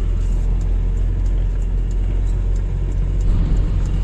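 A car drives along a bypass road, heard from inside as a loud, steady low engine and road rumble with no pauses.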